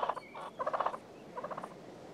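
Wild Merriam's turkey gobbling in three rapid rattling bursts, fairly close and clear with no voices over it, set against a faint outdoor hiss.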